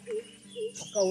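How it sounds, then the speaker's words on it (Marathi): A bird calls outdoors with soft, low cooing notes, repeated a few times amid people talking nearby. "पक्षी कुठला ओरडतोय हा आवाज येतो"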